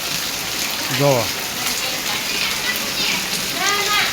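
Heavy first rain pouring down in a village, a steady loud hiss throughout, with someone speaking briefly over it and faint birdlike chirps.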